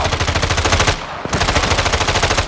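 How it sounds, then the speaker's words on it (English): Sustained machine-gun fire in Call of Duty Warzone, a loud rapid rattle of closely spaced shots that breaks off for a brief gap, then resumes at the same steady pace, close and alone. "I'm taking fire!"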